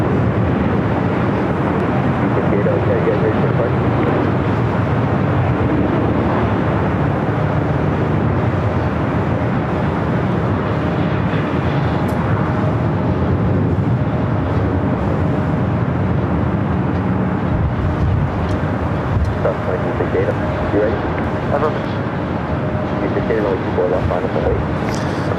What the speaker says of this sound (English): Yet another A380 arrival.